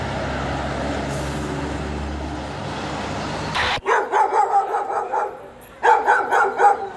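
A dog in Argentina barks at a stranger in two quick, rhythmic bursts of several barks each, loud and close, following a steady low rumble of engine or traffic noise that cuts off abruptly.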